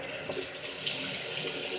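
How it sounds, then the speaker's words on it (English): Water runs steadily from a bathroom tap, a continuous hissing splash at moderate distance with no voices over it. "Okay, so now I'm back in the bathroom to get some more water"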